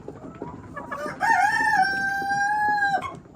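A rooster crows once, loud and close, in a long drawn-out call, with faint clucking of Rhode Island Red hens around it.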